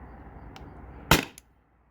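A single sharp, close CO2 air gun shot after a moment of quiet background hiss, followed by a short trailing echo before falling silent.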